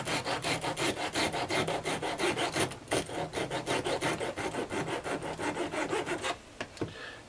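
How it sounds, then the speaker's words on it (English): A file rasps gently at the insulation beside a wire during repair of a Bush DAC 90 radio, giving a steady run of quick, close, rhythmic scraping strokes with a few short pauses and no voices. "by filing very, very gently, not on the wire itself obviously"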